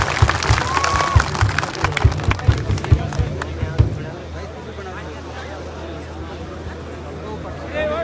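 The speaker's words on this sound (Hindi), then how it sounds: "साथियों, इनके लिए एक बार जोरदार ताली से स्वागत कीजिए।" A rally crowd at a mahapanchayat in Nagarfort claps to welcome a speaker, with rhythmic applause for about four seconds under a loud amplified voice that keeps talking after the clapping fades.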